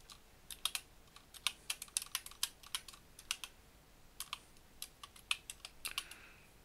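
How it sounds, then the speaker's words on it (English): Someone types on a computer keyboard while setting up Windows, with quiet, irregular bursts of crisp key clicks and short pauses between them, alone in a quiet room. "Now, I just attempted to type there."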